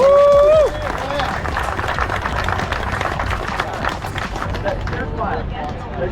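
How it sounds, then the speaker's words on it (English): An outdoor crowd at a pull-start mini bike picnic breaks into steady, dense applause that holds at an even level for several seconds after a voice is cut off. "I think we owe them a round of applause for taking the time to do this event for us"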